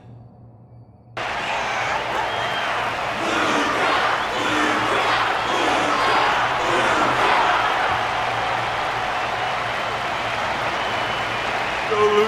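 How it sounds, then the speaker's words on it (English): After a quiet hum, a large video game crowd in Honkai: Star Rail breaks into sustained applause and cheering after a fight, loud and continuous with shouts rising through the clapping. "The audience's passion stays strong. Their constant applause is a salute to this resilient Belabogian fighter."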